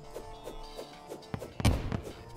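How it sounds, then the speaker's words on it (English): Dynamite detonating in the video game Terraria, a brief booming blast with a burst of crackle that rises over a rumbling background of game sound effects. "Such a massive explosion."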